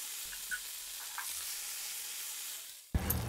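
Ground chili masala paste for a fish curry is sautéed in oil with a soft, continuous sizzle and faint stirring scrapes, then a sharp, louder hiss bursts in near the end.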